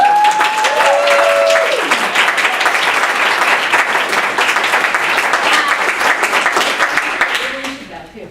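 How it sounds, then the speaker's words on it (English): Theater audience applauding the writers at a play festival, loud continuous clapping with a voice speaking over the opening seconds, then tapering off as the clip closes. "Let's give them a round of applause."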